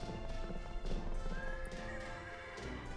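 Horse hooves clip-clop steadily with an occasional whinny in the Fate/Grand Order game, sitting under a busy game soundtrack throughout.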